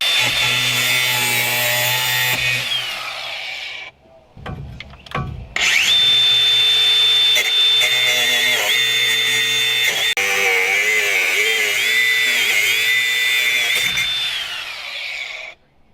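Steady, loud power-tool whine with a gritty cutting rasp, working to remove a rusted parking brake cable from a truck chassis built from recycled Mustang II parts; a brief pause near four seconds, then continuous grinding until it stops.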